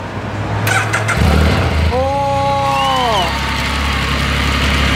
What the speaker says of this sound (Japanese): モードボタンを押す、 そうするとセルが回るようになります。